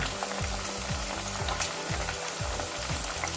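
Pork ribs sizzle and crackle steadily in hot frying oil, a dense bubbling hiss with regular low thumps, and no one speaks.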